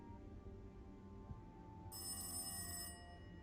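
A telephone bell rings once in a quiet office at night, a bright electronic trill lasting about a second over a low steady hum.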